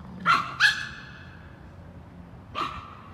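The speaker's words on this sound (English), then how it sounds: "the dog's freaking out" A dog in an empty, closed-down area barks three times, with two sharp barks in quick succession and then a lone bark after a pause, loud and close with no talking.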